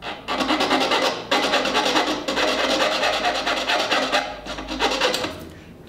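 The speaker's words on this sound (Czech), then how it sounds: "Tohle kalená žiletková pilka s tím úplně si poradí jednoduše, dá se to krásně krájet." A hardened fine-toothed razor saw cutting a small part held in a tiny vise while finishing a model, steady rapid rasping strokes close up, loud and continuous with brief pauses between passes.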